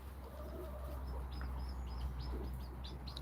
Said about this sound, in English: I hear peeping. I hear chicks.